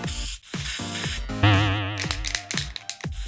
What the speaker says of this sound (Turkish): Saç spreyi canavarı.